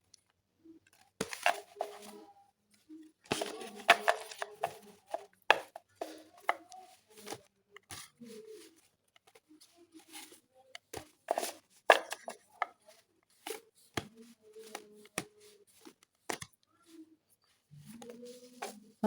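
Tarot cards being gathered and reshuffled after a spill, giving a run of crisp, close papery riffles and taps in irregular bursts, with no talking.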